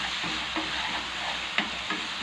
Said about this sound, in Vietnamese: mình xào một lát cho cái cà chua này nó nhừ ra.